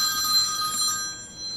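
A telephone rings with a steady, bright, high-pitched electronic trill, loud and close, holding continuously with no voices over it.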